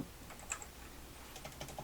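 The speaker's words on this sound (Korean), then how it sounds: "그냥 글자 키보드로 입력한 거예요." Quiet clicking of keys being typed on a computer keyboard while editing a layer in Photoshop, a light, irregular patter of soft taps at close range with no talking.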